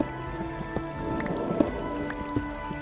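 Water in a Minecraft cave trickles and drips, with scattered wet plinks over a soft continuous flow, fairly close and moderately quiet, and no voices.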